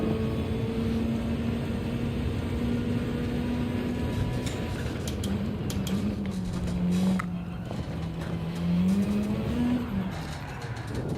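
A race car in the video game Gran Turismo 7 drones steadily, its engine pitch dipping and climbing through shifts and corners, with brief tire noise, loud and continuous.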